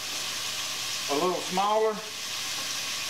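Chunks of chicken of the woods mushroom deep frying in oil, making a constant close hiss and sizzle while a person briefly speaks over it partway through.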